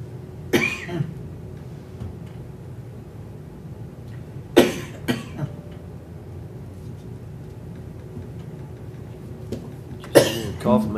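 A person coughs several times in a county commission meeting room: sharp bursts at spaced intervals, with a quieter pair in the middle and a stronger fit near the end, over low room hum and faint background voices.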